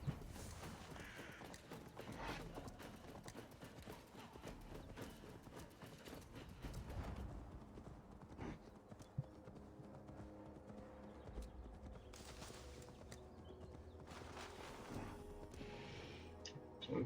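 A horse's hooves clip-clop steadily at a gallop through the whole stretch in Assassin's Creed Valhalla, a rapid continuous drumming with occasional crow caws overhead and faint ambient game sound, no talk.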